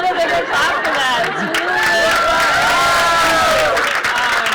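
Stand-up comedy audience clapping and cheering in a club, a dense sustained burst of applause mixed with crowd chatter and a few whoops, steady and full throughout.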